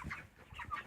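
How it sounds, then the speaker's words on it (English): Turkeys on a farm at night give a quick run of soft, throaty clucking calls, faint and close together within a single second. "the turkeys are up tonight"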